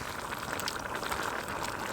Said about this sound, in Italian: guardate che bel bollore